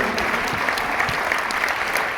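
Steady applause from a crowd at a state champions' welcome-home rally, many hands clapping continuously at even loudness throughout.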